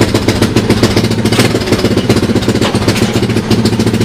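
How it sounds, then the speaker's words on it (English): Honda engine swapped into a 1988 EZGO UTV, formerly electric, runs loud and close with a fast, steady chugging idle that throbs evenly throughout, with no speech over it. "Gotta love it when you can just reach down and fire the engine up."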